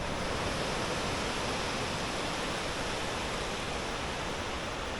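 Surf breaking steadily at a small beach with a little waterfall behind, a continuous loud broadband wash of water with no distinct waves, steady throughout and alone without talk.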